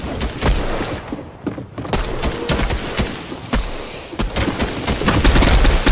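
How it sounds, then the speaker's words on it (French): Grenade blast and bursts of gunfire in a Fortnite match, with dense overlapping shots and bangs continuing for several seconds at close range, no voices. "Je l'ai tué à la grenade"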